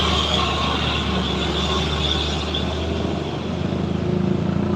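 A truck rolling along the Sitinjau Lauik mountain road, a steady low engine drone and tyre rumble that swells and eases slightly as it moves nearby.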